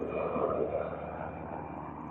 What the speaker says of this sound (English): Got a cool Army helicopter flying by right now.